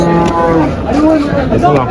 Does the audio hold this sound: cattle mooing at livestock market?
yes